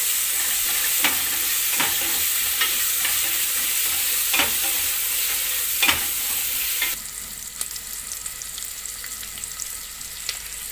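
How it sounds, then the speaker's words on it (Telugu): Onions fry for sambar in a hot pan, with a steady hiss of sizzling and sharp scrapes of a stirring utensil recurring every second or so. The frying quiets noticeably near the end. "ఆనియన్స్ ఫ్రై అయ్యండి."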